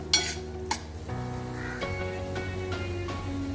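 Spinach, brinjal and potato vegetables sizzle and fry in a pan, a steady close crackle broken by a couple of sharp scrapes of a stirring spoon at the start.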